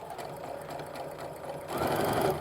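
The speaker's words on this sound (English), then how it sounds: "Sewing down to that point." A sewing machine stitches a quilt block seam for a Sawtooth Star and Log Cabin pattern, a soft, fast, even whir of needle strokes up close that grows a bit louder and busier near the end.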